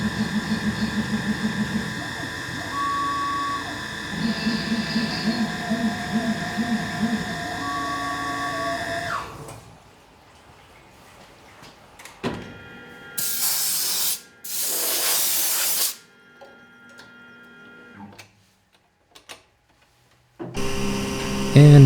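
A CNC mill running near its 8,000 RPM maximum while machining a fixture plate, with drilling through the part: a steady whining tone with low hum, then a quieter stretch broken by loud bursts of hissing spray.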